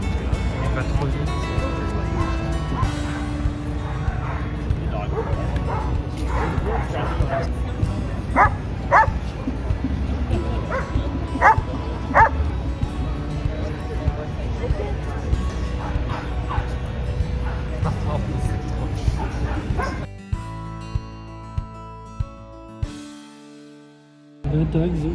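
Dogs bark and yip in a busy New York City setting, short repeated calls scattered over steady crowd noise and talk, with the scene thinning out near the end.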